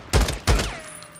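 Two loud gunshots ring out in the video game Days Gone, fired at the player about a third of a second apart, each followed by a booming tail that fades into a quiet hum.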